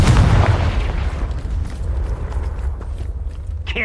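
Confringo spell explosion in the Hogwarts Legacy video game, a deep booming blast up front that rumbles and decays over a few seconds, followed by a faint sharp sound at the end.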